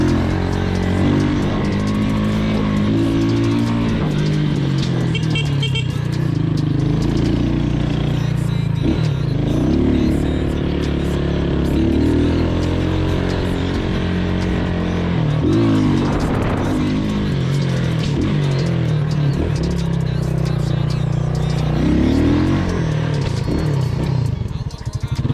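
Brand-new Missile 250 motorcycle with a fresh timing chain out on a test ride, engine revving up and down repeatedly in loud, close surges with mechanical clatter and occasional voices.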